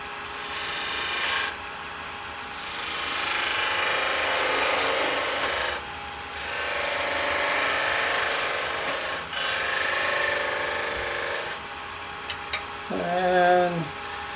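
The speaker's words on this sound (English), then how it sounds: "I'm going to do it with a skew because I can take a lighter, more directed cut" A skew chisel cuts a spigot on a wooden egg spinning on a wood lathe, giving long rasping scrapes in several passes with brief pauses between them. A short voice is heard near the end.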